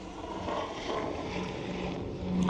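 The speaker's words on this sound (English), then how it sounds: "The helicopter." A helicopter flies overhead during a fishing trip outdoors, heard as a steady broadband rotor and engine rumble with a faint whine, moderately distant and continuous throughout, with no one talking.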